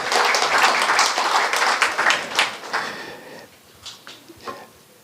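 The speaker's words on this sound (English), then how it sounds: "Let's clap for Joy." Audience applause at an investment forum in Houston, a burst of brisk clapping that fades after about three seconds into a few scattered claps.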